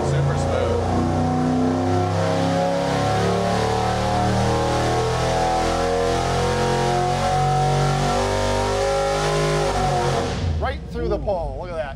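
An old-school Ford 302 V8 engine revving hard on a dyno: a loud, steady, rising engine roar that holds for about ten seconds and then drops off sharply near the end.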